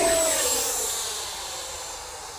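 FMS Futura 64mm electric ducted-fan RC jet flying at full throttle on its maiden flight: a steady high-pitched whine and rushing roar that slowly fades as the jet moves away, with no one talking.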